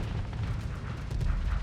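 Artillery fire in a combat video game: a dense, continuous barrage of booming shots and blasts that blur into a steady roar, moderately loud, with no talking.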